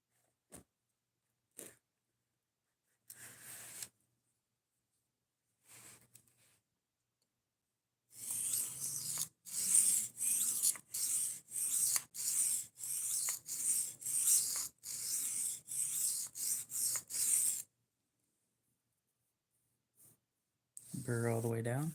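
A knife being sharpened on a 1000 grit whetstone, with a few isolated strokes and then a long run of quick rhythmic rasping passes, close and clear. A short bit of speech is heard at the very end.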